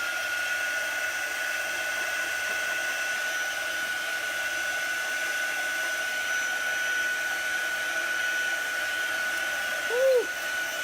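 A heat tool blows steadily and loudly, drying a chalk paint craft project, a continuous close whirring hum that holds without a break before a brief shift near the end.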